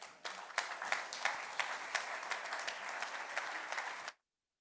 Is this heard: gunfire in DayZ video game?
no